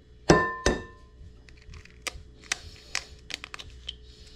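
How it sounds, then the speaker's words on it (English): An egg cracked one-handed against a bowl while making snapper burgers: two sharp, ringing shell taps close together, followed by a few faint, scattered clicks and crackles. "Let's see if I can do a one-handed egg crack."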